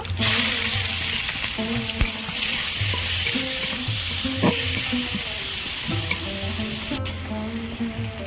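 Cumin seeds and chopped onion fry in a pan for a Bengali prawn dopiaza, a steady loud sizzle broken by scraping stirs and occasional clinks of the spoon, with no voices.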